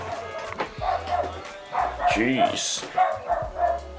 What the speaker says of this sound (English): dog going crazy, man